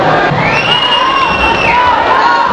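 A crowd at a funk show led by an MC shouts and cheers loudly and continuously, a dense roar of voices with high whoops rising over it.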